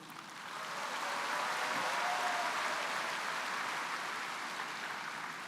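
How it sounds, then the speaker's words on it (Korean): Steady, sustained applause from a large crowd at a Saenuri Party national convention in a hall, swelling in the first second and holding evenly, with no voices over it. "뜨거운 박수를 보내드리며"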